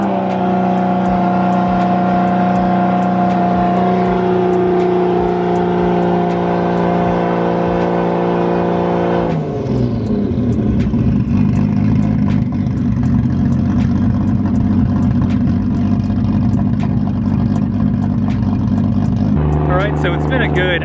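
A built Nissan RB25 Neo on a hub dyno holds steady rev steps, its engine tone jumping to a new pitch at each increment and staying loud and close throughout, with talk underneath.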